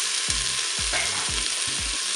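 Bell peppers browning in a Cookeo multicooker on its browning function, a steady broadband sizzle with four low rhythmic thumps of stirring or turning, close and moderately loud, no talk.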